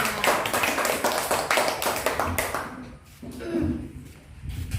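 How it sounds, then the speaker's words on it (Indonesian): Schoolchildren in a classroom clap for a classmate, a loose burst of hand claps and taps that thins out partway, with faint voices and small knocks mixed in. "kita kasih tepuk tangan dulu"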